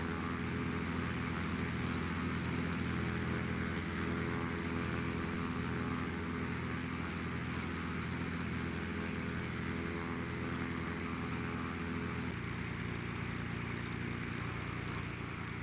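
Steady drone of a Carenado Cessna 185F amphibian's piston engine and propeller in the FS9 flight simulator, a constant mid-level hum with a faint rhythmic pulse that shifts tone near the end.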